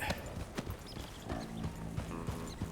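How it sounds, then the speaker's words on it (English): Hooves of a running herd of mustangs in Red Dead Redemption 2 clatter in quick, uneven clip-clop beats, with the whole group galloping together at close range. "Herd the horses to the open plains."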